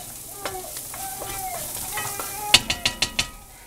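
Garlic hits a hot pan with the tomato-and-chicken base just cooked down, giving a steady sizzle with scattered stirring scrapes and a quick run of sharp utensil clicks near the end, close and clear.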